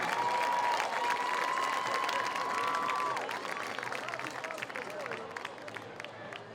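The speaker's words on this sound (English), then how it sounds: "How about a nice round of applause for Dr. Deidre Neal." Crowd applause and cheering at a high school football event between La Salle and Colerain, dense and loud at first, then thinning as a voice comes in over it and the clapping fades.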